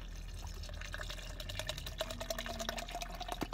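About half a litre of water is poured at home, giving a faint, quiet trickle and splash that runs continuously for a few seconds with no talking.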